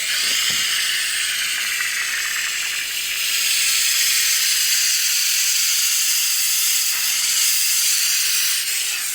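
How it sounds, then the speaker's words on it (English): A PurSteam 10-in-1 steam mop hisses steadily as it steams a grout line, a loud continuous high hiss that swells slightly midway. "We can turn this on, and it's nice because we can kind of just steam it"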